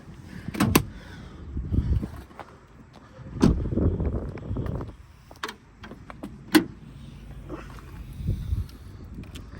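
A Lexus GX470's hood is opened by hand, with a few sharp clicks and clunks of the latch and release at close range, set between quiet pauses and low handling noises.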